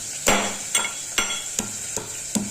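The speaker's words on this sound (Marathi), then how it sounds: "आता हे लसूण आणि अद्रक ठेचून घेते" Garlic and ginger pounded in a stone mortar and pestle, six evenly spaced sharp knocks with a bright ringing edge, close up and unaccompanied by talk.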